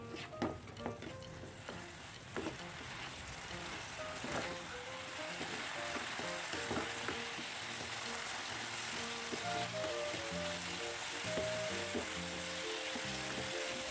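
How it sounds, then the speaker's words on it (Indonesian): Potato and chicken curry filling stirred and fried in a pan until the water cooks off, a continuous sizzle with repeated scraping and clinking of the spatula, close and steady. "Aduk-aduk hingga tercampur rata dan air menyusut."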